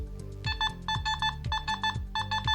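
Electronic beeping tones from a Nokta metal detector in park mode, rhythmic bursts of short pulses repeating in clusters with brief gaps, loud and close.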